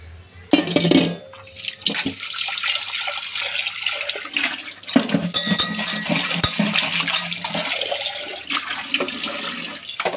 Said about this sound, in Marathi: टोप धुवून घेते आणि पुन्हा ही भाजी 2-3 वेळा स्वच्छ पाण्याने धुवून घेणार आहे